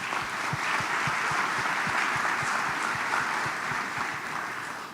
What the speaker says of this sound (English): So give them a round of applause for them.